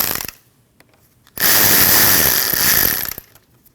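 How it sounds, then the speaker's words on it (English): A power tool whirs loudly for under two seconds, loosening the radiator hose clamp just above the petcock on a 2013-2019 Ford Escape, with quiet gaps before and after. "You need to loosen your clamp to remove this hose."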